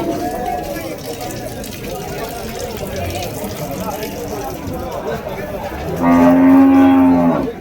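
A bull at the Vaniyambadi cattle market lets out one loud, deep, drawn-out moo near the end, breaking through steady crowd chatter and market noise.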